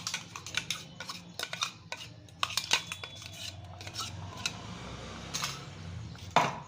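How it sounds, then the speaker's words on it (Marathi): Ground spice paste frying in oil in a pan for a village-style chana amti, with spoon or spatula scraping and clinking against the pan in frequent close taps and rubs over a low background hum. "वाटण आपल्याला आता याच्यामध्ये टाकून द्यायचं आणि मस्त याला आता आपल्याला फ्राय करून घ्यायचं"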